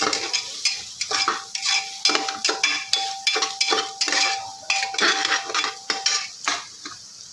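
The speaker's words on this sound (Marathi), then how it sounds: "मीठ मसाले टाकल्यानंतर चांगलं त्याला हलवायचं असं" Soybean khichdi with salt and spices being stirred in a metal pot, a spoon scraping and knocking in a quick steady rhythm of repeated strokes, loud and close over a faint fry, with no voices.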